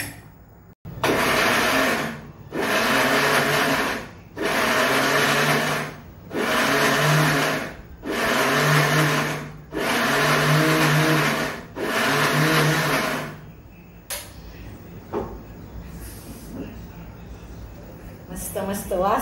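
Mixer grinder blending raw green mango chutney in loud pulses, seven roughly one-second whirs separated by short pauses, followed by quieter handling sounds while someone talks.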